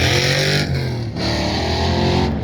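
A pro touring truck on an autocross course at a Pro Touring Truck Shootout event, its engine droning loud and steady with a brief dip in revs as it works through the course.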